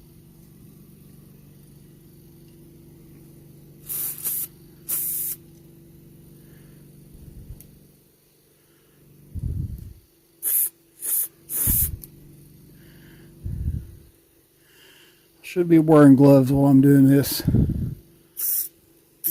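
Short bursts of fuel hiss from the generator tip of a Coleman 237 lantern during maintenance, several separate sprays followed by a longer spurt, with someone talking between them over a low steady hum.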